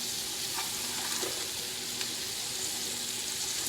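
Shrimp and catfish sizzle on a Foreman grill in a steady, close, dense hiss with no pauses, a few faint pops and clicks.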